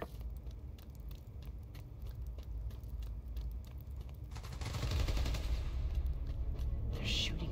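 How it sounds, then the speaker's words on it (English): Rapid bursts of gunfire rattle at a power station in Spider-Man: Miles Morales, quick repeated cracks running through the first half, then a heavier rushing wash of noise swells and holds near the end. "They're shooting transformers?"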